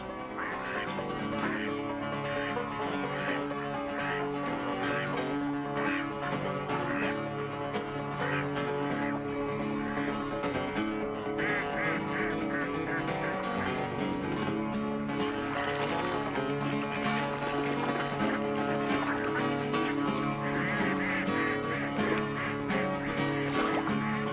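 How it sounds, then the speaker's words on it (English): Mallard ducks quack repeatedly over a steady background in a swamp, several birds calling at moderate distance, with no talking. "A tremendous number of North America's birds winter here, among them mallard ducks."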